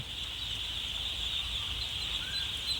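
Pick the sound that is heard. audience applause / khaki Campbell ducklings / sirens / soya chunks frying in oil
khaki Campbell ducklings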